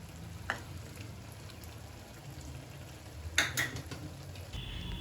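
Melted ghee poured around a pot of mutton biryani on the stove gives a soft, steady sizzle, faint and close, with a couple of light metal clinks from the pan.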